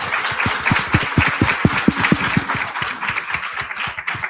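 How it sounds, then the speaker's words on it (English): A conference audience claps for a panel, with distinct individual hand claps standing out over a steady spread of applause throughout. "can I get a round of applause, please, for this wonderful panel?"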